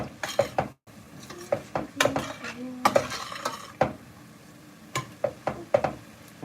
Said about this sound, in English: We're just stir frying these vegetables.